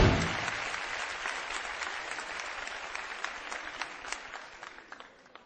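A Turkish TV talk-show studio audience applauds in a loud burst that slowly thins into scattered clapping, with no talk over it.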